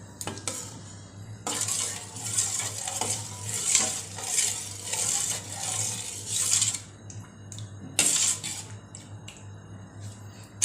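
Dal fry being stirred in a pot, with a utensil scraping and clinking against the metal in steady rounds, and a soft sizzle underneath; no talking.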